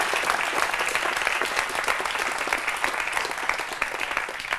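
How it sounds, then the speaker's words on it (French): An audience at a French stage telepathy show claps loudly for a moustached man, with thick, unbroken applause filling the room at a steady level throughout. "On applaudit très très fort ce monsieur."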